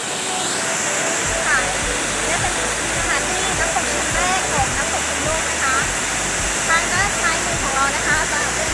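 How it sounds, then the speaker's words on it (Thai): Water pours over large rocks at Phrom Lok waterfall in a lush forest in Nakhon Si Thammarat, Thailand, a loud, continuous rushing roar close by, with someone speaking over it throughout. "มีโขดหินใหญ่นะคะมีทานน้ำไหลลงมา จากโขดหินนะคะ"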